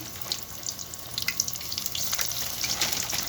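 Snacks frying in hot oil, a steady dense sizzle and crackle with scattered bright pops, continuous and fairly close throughout.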